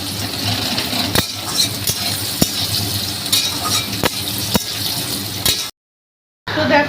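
Onion, garlic and chili fry in a pan with a dense, continuous sizzle and periodic sharp stirring clacks, ending in a brief cut to silence before the sizzle resumes.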